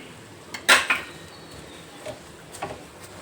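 A spoon scrapes and clinks in a pan on a switched-off stove while mustard seeds, fenugreek and chilli powder are mixed for village-style mango pickle, giving a few brief metallic taps and scrapes.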